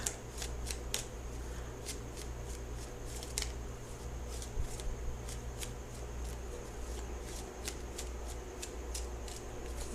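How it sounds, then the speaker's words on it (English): Rapid riffling and flicking of tarot cards, with repeated crisp snaps over a steady low hum, close and continuous without speech. "I'm going to shuffle for the outcome card"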